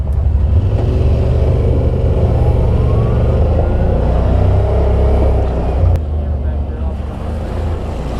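A side-by-side UTV, an X2 R-Spec with dump bed, drives a trail in two-wheel drive, its engine droning loudly and close with steady revving and bumps, though no voices can be heard.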